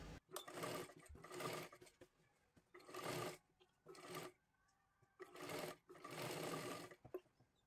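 A sewing machine runs a line of stitching along the neck edge of a child's lehenga, in several short, close bursts separated by quiet pauses.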